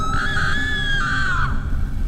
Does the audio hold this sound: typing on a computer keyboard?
no